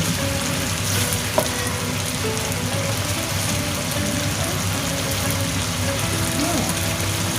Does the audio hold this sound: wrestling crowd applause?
no